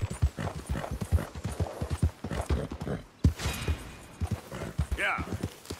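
Steady clip-clop of a horse's hooves while riding in Red Dead Redemption 2, a regular close rhythm running throughout, with a brief whinny near the end and talk over it.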